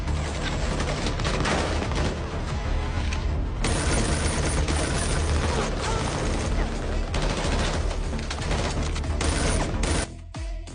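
Gunfire in a film fight scene: dense, continuous rapid shots and bursts with heavy mixed sound, loud throughout, then dropping near the end.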